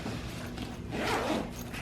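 A backpack zipper is pulled open in one quick, close rasp, quiet and with no voices.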